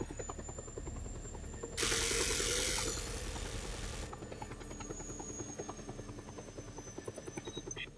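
An aircraft approaching in the video game Just Cause 2, a rotor-like engine drone with a loud burst of noise partway through, then the engine hum continuing steadily.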